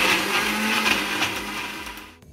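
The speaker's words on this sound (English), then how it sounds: "Now we are going to blend the paste for the octopus turmeric." A blender whirs loudly and continuously as it purees turmeric paste for an octopus dish in a Mauritian kitchen, its motor grinding steadily before cutting off abruptly at the end.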